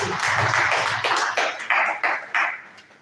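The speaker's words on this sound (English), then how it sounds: "Please round of applause for Dr. Sani." A few people clap briefly at an electrical engineering conference, sparse and uneven bursts that thin out and fade within about three seconds.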